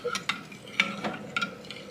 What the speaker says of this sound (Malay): Terus kacau sampai mendidih.